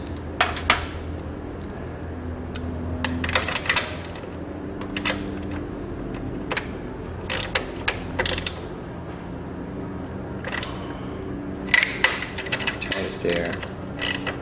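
A GlidePro motor mount's crimp lock nuts are snugged down with a wrench, producing close, irregular bursts of ratcheting clicks and metallic creaks separated by short pauses, with no talking.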